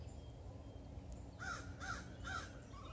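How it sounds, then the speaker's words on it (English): Crows caw three times in quick succession over an open gravel field at a former switchyard, moderately distant calls over a quiet outdoor background. "And crows."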